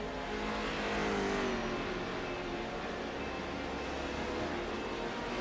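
Race cars from a 2-litre pro series lap a track in a steady, dense engine roar that holds at an even level throughout, with no pauses or talking.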